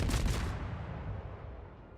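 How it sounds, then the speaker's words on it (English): A destroyer's naval guns fire a salvo in a warship video game, a loud broadband boom up front followed by a long rumbling decay that fades over two seconds. "I do let loose my salvo"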